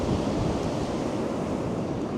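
Ocean surf washes in at Sandymouth beach at sunrise as the tide comes in, a steady, full roar of breaking waves mixed with wind buffeting the microphone.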